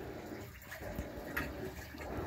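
Water steadily pours into the drum of a Maytag glass-top top-loading washing machine without an agitator, a continuous mid-level rushing and splashing that holds even throughout.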